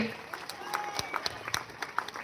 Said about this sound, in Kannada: ಸೊ ಬರ್ಲಿ ಜೋರ ಚಪ್ಪಾಳೆ